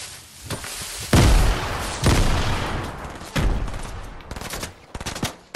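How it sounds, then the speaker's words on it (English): Grenade explosions in Fortnite going off in quick succession, four heavy booms with crackling gunfire-like bursts between them, loud and close, no talk. "what is this person grenade spamming?"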